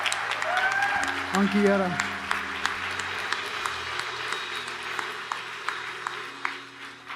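Church congregation clapping hands together in steady applause, with a voice speaking over the clapping as it continues and gradually fades.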